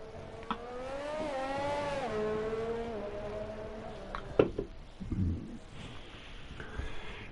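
A GP2 race car on track at the Autodromo Hermanos Rodriguez in a racing game, its high engine whine rising and falling through gear changes, followed by brief clunks and a quieter fading drone.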